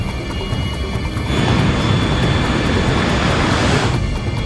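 A Continental Airlines jet taking off in a snowstorm: a loud, steady engine roar that swells into a heavier rush after the first second and holds there, close and continuous, with no voices.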